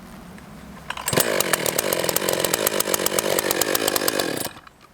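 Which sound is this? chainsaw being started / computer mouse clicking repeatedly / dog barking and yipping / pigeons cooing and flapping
chainsaw being started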